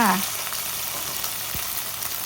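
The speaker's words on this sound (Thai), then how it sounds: "แล้วก็ผัดให้เม็ดยี่หร่าเขาสุกนะคะ" Dried chilies and cumin seeds stir-frying in a pan, a dense steady sizzling hiss with a short tonal squeak at the start and a faint clink midway, no voices.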